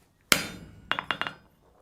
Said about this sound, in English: So this is how effective something like a soft face hammer can be.